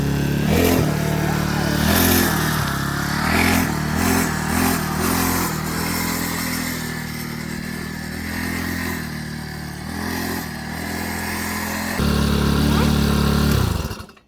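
A small X-PRO 40cc four-wheeler ATV engine drones steadily at close range while being ridden, its buzzing pitch shifting slightly as it speeds up, with a louder stretch near the end before it cuts off.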